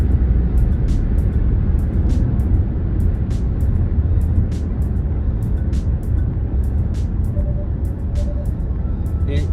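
A Hyundai Sonata Limited accelerates at full throttle, heard from inside as a loud, steady broadband engine and road roar that runs unbroken, with faint ticking and a brief tone late on.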